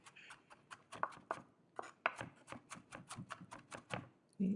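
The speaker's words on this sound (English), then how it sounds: "just go back and forth and push it together again, and just keep doing it until you got nice minced garlic" Rapid rhythmic knife chops mincing garlic on a cutting board, a steady run of crisp close taps with brief pauses, ending in a short scraping push.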